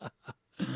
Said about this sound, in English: I coughed and then before I could mute it